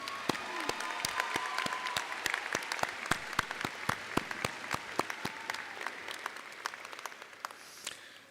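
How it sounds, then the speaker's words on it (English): A commencement crowd at Daytona State College claps for the faculty, a broad wash of applause punctuated by sharp, close individual claps, fairly soft overall and tapering at the end. "Graduates, let's give our faculty a well-deserved round of applause"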